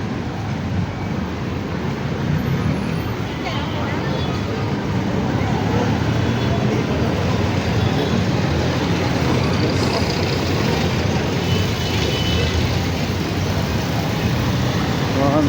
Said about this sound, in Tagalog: Traffic na naman dito.